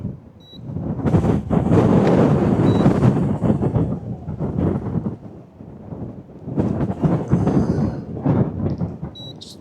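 Strong wind gusting around 22 miles per hour roars and buffets the microphone in heavy, surging gusts, easing briefly midway before rising again.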